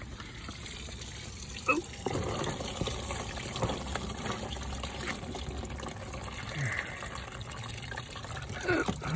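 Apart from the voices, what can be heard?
coolant draining from a Honda Civic radiator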